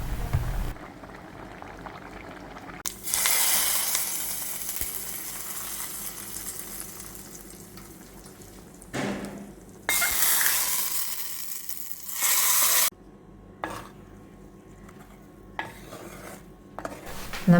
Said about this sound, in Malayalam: ഇനി ഇതിലേക്ക് നമുക്കൊന്ന് കടുകും കൂടി വറുത്തിട്ടേക്കാം.